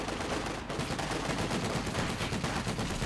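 Sustained machine gun fire from the World War II strategy game Company of Heroes 2 rattles on continuously for about three seconds, loud and dense, with no voices.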